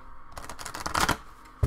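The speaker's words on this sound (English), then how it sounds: "Some shuffles." Oracle cards are shuffled by hand in a short burst of quick, dry riffling and flapping, ending in a soft tap, close and fairly quiet with no talking.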